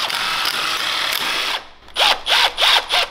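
A power drill spins out bolts from a supercharger pulley on a Predator 670cc buggy engine: a steady whir for about a second and a half, then four short, loud rising-and-falling bursts close by, with no talking.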